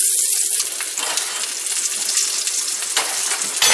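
Bologna frying in a hot pan for a sandwich, crackling and sizzling close by with uneven bursts of spattering over a hissing bed.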